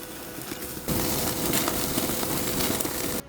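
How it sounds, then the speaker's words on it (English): Steak sizzles on a grill with a loud, steady hiss that swells about a second in and holds before dropping off near the end, a continuous crackling wash. "See the sizzle?"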